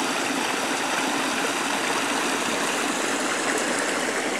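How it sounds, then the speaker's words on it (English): A small mountain stream feeding Roaring Brook on the Giant Mountain trail rushes and splashes steadily over rocks, a constant close, full wash of water with no voices. "here's a tributary to the Roaring Brook, a little further up"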